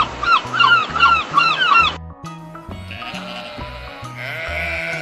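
A sheep bleats in quavering, wavering calls, moderately close, heard over a light bouncing music beat, with a string of sharper repeated cries at the start.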